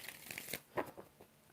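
Tarot cards being shuffled by hand, a brief soft flurry of papery riffles and slaps, quiet and close, with no talking.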